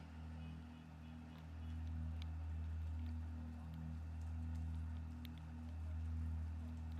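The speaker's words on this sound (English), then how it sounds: "the rain has just abated a little bit" Rain falling on an Imola racetrack during a Ferrari Challenge North America qualifying session, a steady broadband patter heard over a constant low rumble, continuous and fairly distant, with no talk.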